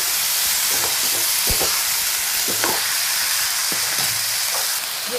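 Cauliflower tossed into peas already frying in a pan, with a steady close sizzle throughout and intermittent scraping and clinking as the vegetables are stirred together.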